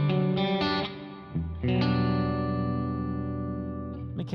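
An electric guitar through an Axe-Fx amp modeler strikes a few notes and chords, each ringing out through a grainy, metallic low-quality reverb that smears into a long shimmering tail.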